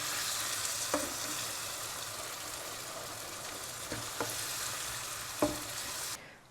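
A vegetable sauté (zazharka) frying steadily in a pan, with a constant close sizzle and a few soft clinks from stirring.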